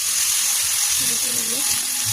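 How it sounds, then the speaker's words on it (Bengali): Onion paste frying in a pan while being stirred, for a yogurt chicken dish: a steady close sizzle with a soft scraping stir, and a faint voice murmuring in the middle. "ভালো করে একটু নাড়িয়ে নেবো।"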